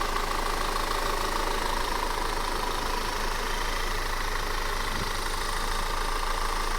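A 2014 Audi A4 Premium Plus Quattro engine idles steadily nearby, a constant low rumble and mechanical hum with no change in pace throughout.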